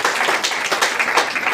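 An audience at a DXN business meeting gives a burst of dense, rapid clapping, loud and close, filling the whole short moment without voices.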